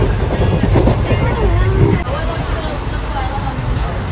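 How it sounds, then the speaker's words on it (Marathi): A passenger train pulls out of a station on a Mumbai to Ujjain journey, its rumble and rail noise steady and close. Crowd chatter runs underneath throughout. "आणि ट्रेन सुटली"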